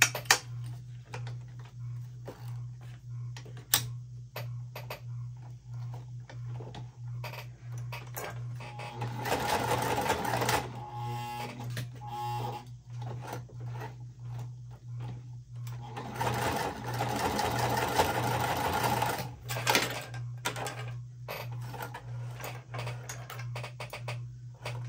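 A sewing machine with a regular presser foot stitches a tote bag seam, running in two sustained bursts of steady mechanical whirring with scattered clicks and ticks between, close and clear with no talk.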